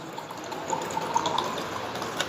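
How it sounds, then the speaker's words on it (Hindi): Water is poured into a beaker for an oil-and-water separation experiment, a soft continuous trickling and splashing that stays at a low, steady level throughout. "if we can put some water in this beaker"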